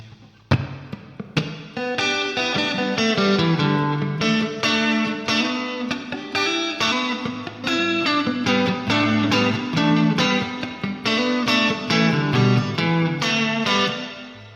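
Distorted electric guitar plays a run of quick single-note licks and short phrases, loud and continuous, with no low bass notes underneath.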